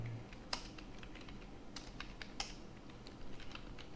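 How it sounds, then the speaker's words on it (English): Someone types on a computer keyboard, giving a soft, uneven run of quick key clicks, fairly faint and close, over a low steady hum, with no talking. "Just typing out my address."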